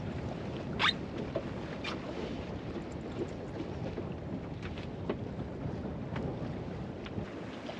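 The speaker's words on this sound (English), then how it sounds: "There is actually quite a good wind today." Steady wind noise buffets the microphone aboard a SCAMP cruising dinghy under sail, a continuous broadband rush with faint water sounds and no talking.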